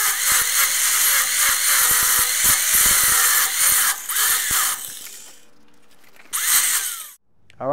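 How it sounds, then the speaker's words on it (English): A grinder grinds out porosity in a flux-core weld with a loud, gritty, high-pitched whine that drops away briefly before a short final burst, up close and with no talk. "We're going to grind a little bit more until that porosity cleans up on that."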